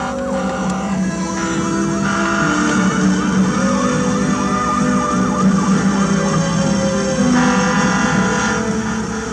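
Fire department emergency vehicles arrive at a simulated accident scene with a wrecked van, sirens wailing loud and close over idling engines throughout, no speech.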